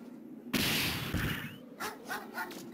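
A dog in the video game Mega Man Legends gives a sharp bark, then a string of short whimpers and yips, fairly close and alone.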